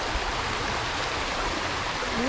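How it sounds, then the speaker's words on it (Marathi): Water rushes and bubbles over stones in a steady, unbroken wash of noise, close and continuous with no voices. "दगडांमुळे आवाज येतो ना ते. हा पाणी बुलबुल आहे ना ते."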